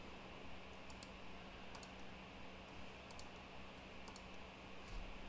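Mouse clicking while playing the railway strategy game Railway Empire, faint, sharp clicks in small clusters of two or three, spaced about a second apart over a steady low hiss of background noise.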